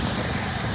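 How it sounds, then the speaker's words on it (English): Steady, heavy wind buffets the microphone in an open wheat field with a constant low rumble and hiss, loud and unbroken throughout. "Sorry about the wind."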